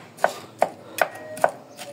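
Knife chops ingredients on a board for pork adobo with chicken liver: four crisp, evenly spaced strikes about 0.4 seconds apart, close and fairly loud, with a soft fifth tap at the end and no talking.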